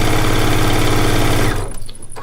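A sewing machine pieces a quilt from charm-pack squares, a loud fast rhythmic close-up chatter for about a second and a half before stopping abruptly, leaving faint clicks.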